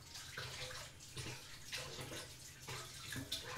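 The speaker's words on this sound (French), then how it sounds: "Et cette fois je vais prendre ce fouet hein, aussi. Pareil, je vais le rincer un petit peu." A whisk is rinsed under a running kitchen tap, a steady faint hiss of flowing water with soft splashing as it is moved through the stream.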